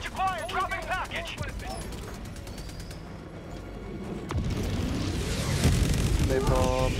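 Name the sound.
bombing explosions in the video game Helldivers 2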